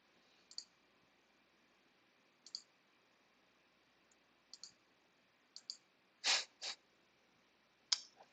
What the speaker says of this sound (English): Apologies for all the clicking